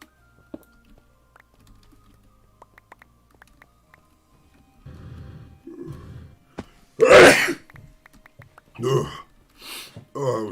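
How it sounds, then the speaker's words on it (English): One sudden, loud sneeze bursts out near the microphone after quiet stretches of faint keyboard and mouse clicks during computer gameplay, followed by a person speaking. "Oh, that was a bad sneeze."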